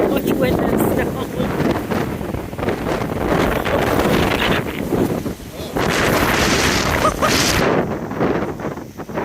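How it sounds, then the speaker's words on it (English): Strong blizzard wind in Bar Harbor, Maine roars as a loud, continuous buffeting rush across the microphone, easing briefly midway and then returning at full force. "So much wind and snow."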